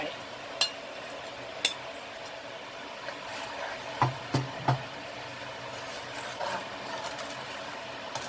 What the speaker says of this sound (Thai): ใส่ลงไปแล้วก็คนให้ละลายนะคะ